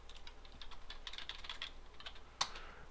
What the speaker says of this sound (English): So I'm going to go ahead and type that into our web browser here.